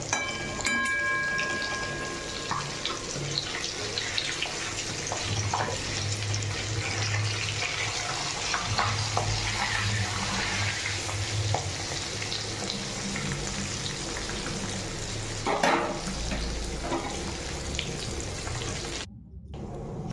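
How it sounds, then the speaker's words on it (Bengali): Pabda fish frying in hot oil, a loud, steady hiss with scattered pops and crackles that runs on without pause before briefly dipping near the end. "চলো মাছগুলো ভাজতে দিয়ে দিলাম।"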